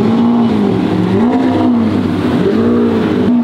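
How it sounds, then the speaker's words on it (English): Ferrari drift car engine revving loudly and close, a continuous roaring tone rising and falling in pitch with no talk. "How many people in this world are crazy enough to drift a Ferrari?"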